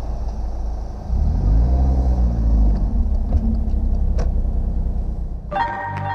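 A car drives along a scenic rural road, its engine giving a loud, steady low rumble that swells after the first second and holds close throughout, with a brighter burst of sound near the end.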